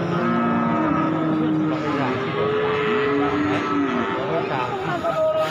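Cattle low and moo at a busy livestock market where jumbo cows are sold, with long drawn-out calls sounding close, while people talk steadily in the background.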